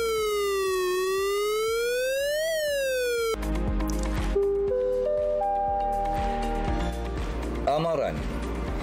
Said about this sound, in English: Pertama, bunyi siren amaran.